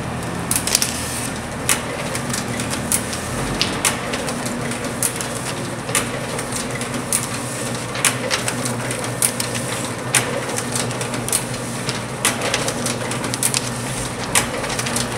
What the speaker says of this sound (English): Here we have a Rossback Model 201 little booklet stitcher.